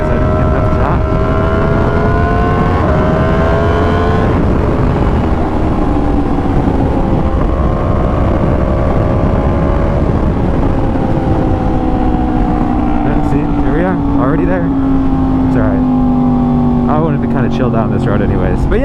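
Yamaha R1 motorcycle engine roaring steadily at speed, loud and close with buffeting wind noise and shifting pitch through gear changes, a rider's voice talking over it throughout.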